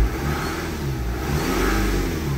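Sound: car engine revving

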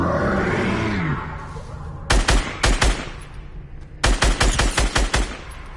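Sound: pistol shots in video game Fortnite

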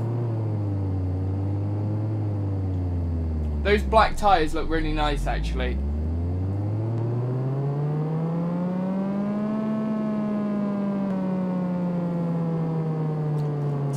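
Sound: Mazda RX-7 engine starting and revving, Car Mechanic Simulator video game

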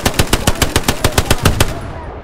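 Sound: gunfire in video game Hell Let Loose

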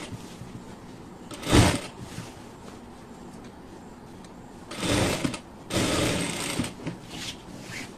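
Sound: sewing machine stitching sleeves onto a garment

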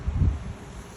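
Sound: natural wind blowing on the microphone

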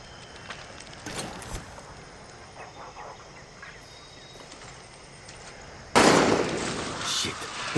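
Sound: gunfire in video game Far Cry 6

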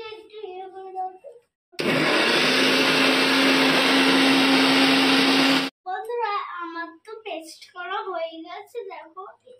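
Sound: blender grinding leaves into a paste for a hair pack

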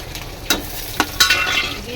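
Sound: bay leaf, cumin and dried chilli sizzling in hot oil

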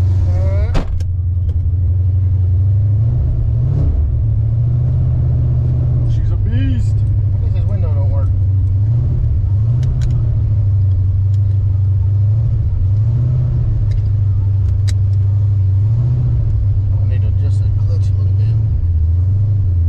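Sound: 331 stroker engine in GT car running

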